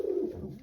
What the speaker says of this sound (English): our pair of doves